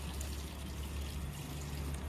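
Fuel contaminated with water pours steadily from a Toyota Prius Alpha hybrid, a continuous close trickle and splash over a low background hum, with no talk.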